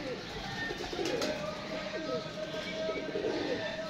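Pigeons coo in low, rolling calls against a constant background hiss, the cooing repeating softly and fairly near throughout.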